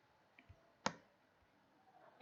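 A computer mouse gives a few sharp, isolated clicks spaced apart against a quiet, faint background.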